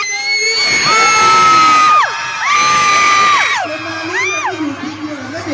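A crowd of children cheers and shouts loudly in long rising whoops, with a brief pause between bursts and some voices mixed in.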